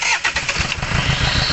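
A 2004 Hyundai Santa Fe with a rough-running engine and a suspected faulty number 4 injector cranks and catches, turning into a loud, uneven idle up close.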